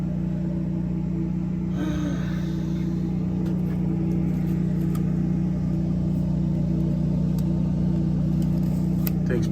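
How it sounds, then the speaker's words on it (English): A Generac 24kW standby generator runs just outside, its steady low engine hum carried indoors through a window, loud and constant with no break. "Generator's right here, right on the other side of this wall."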